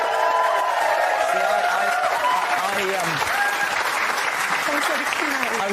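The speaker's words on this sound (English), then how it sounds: "Give a round of applause." Studio audience on a television talk show breaks into sustained applause with some crowd noise, the clapping loud and continuous while a voice carries faintly over it.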